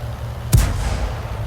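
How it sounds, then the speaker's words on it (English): A single heavy tank cannon shot in the tank combat game Crusader, a sharp close boom with a rolling low tail that fades over about a second, heard alone. "He's firing on the move."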